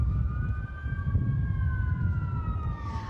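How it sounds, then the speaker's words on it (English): Wailing fire truck sirens during a Southern California wildfire emergency, a steady rising and falling tone over a heavy low rumble of engines, loud and sustained with no talking. "The sirens are so loud"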